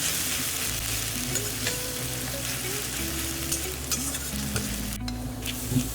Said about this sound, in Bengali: আর তারপরে এখানে আদা আর লঙ্কা বাটাটা দিয়ে ভালো করে নেড়ে নিচ্ছি